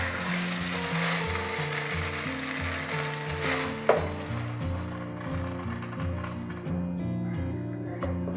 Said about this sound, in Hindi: हम आहिस्ता आहिस्ता इसमें लगातार चमचा हिलाते रहेंगे।